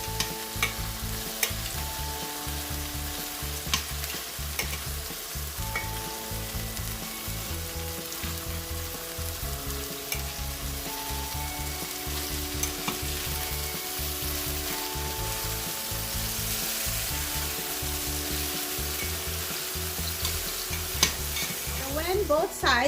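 Beef short ribs browning in a hot pan give off a continuous, close sizzle with crackling spatter, steady and fairly loud throughout, with occasional clinks of a utensil turning the meat and no one talking.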